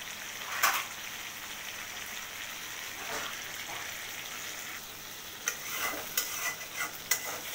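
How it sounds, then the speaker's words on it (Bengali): Hilsa fish fries in oil in a pan, a soft, even sizzle with a few sharp spatter pops and light stirring scrapes toward the end. "তো আমি মাছটা অল্প কষিয়ে নিলাম, এখন উঠিয়ে ফেলবো।"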